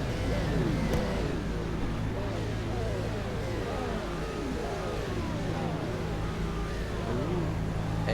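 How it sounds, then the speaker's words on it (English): A GT3 racing car engine in a sim racing game revs and whines through rising and falling gear sweeps, a steady layered drone continuing throughout. "Engine's revving."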